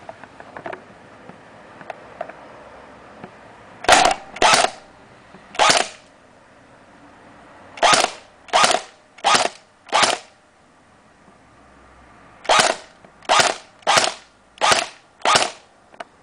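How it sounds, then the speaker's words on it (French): An ASG airsoft MP40 Erma replica fires single shots at a wooden crate, about a dozen sharp, snappy cracks spaced irregularly in small groups over a quiet background. "Donc là je tire sur un cajot en bois."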